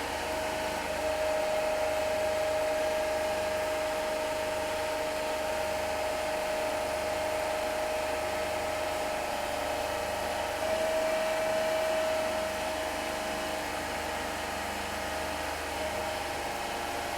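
A DC motor coupled to a three-phase alternator runs steadily at rated speed in a test setup, giving a constant, even electrical whine and hum with no change in pitch or level.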